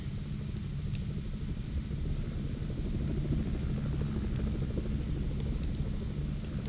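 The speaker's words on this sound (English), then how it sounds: "I hear a helicopter." A helicopter in the video game F.E.A.R. 2 gives off a steady, continuous low rumble and whir that holds evenly throughout, loud and close, with no talking over it.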